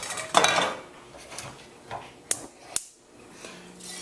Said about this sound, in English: I'm just going to use a strainer, and I'm just going to strain that directly into the pot.